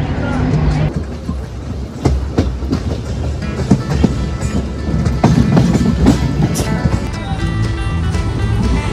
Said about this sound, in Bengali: বেশ দ্রুত বেগে ট্রেন ছুটে চলেছে।